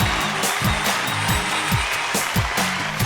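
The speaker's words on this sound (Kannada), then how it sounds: "ಸೊ ಬರ್ಲಿ ನಮ್ಮ ತಂಡಕ್ಕೆ ಒಂದು ದೊಡ್ಡ ಚಪ್ಪಾಳೆ" Studio audience at a Kannada comedy show claps in a dense, continuous burst, with rhythmic low thumps pulsing beneath the applause.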